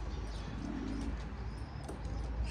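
Pigeons in a loft with many birds, giving soft, low throaty coos close by against a continuous rumbling background, with faint chirps above.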